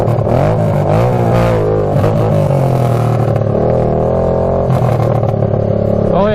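A tractor swapped with a Honda 500cc engine accelerates hard in second gear, its loud, close engine note rising and falling with revving throughout.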